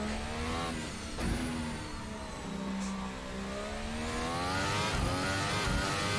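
A Formula 1 car engine in a racing video game set at the British GP screams steadily and climbs in pitch as it accelerates hard, loud and continuous with no talking.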